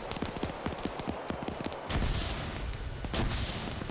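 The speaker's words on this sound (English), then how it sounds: "More grenades being popped in this compound." Grenades going off in a multiplayer game fight for a compound, a rapid run of sharp gunfire-like pops giving way to heavier booming blasts, with two strong bursts standing out among the clatter.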